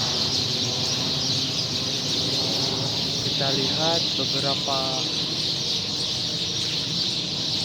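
Hundreds of birds roosting in date palm trees, a dense chattering background with a few clearer chirping calls midway, under someone speaking.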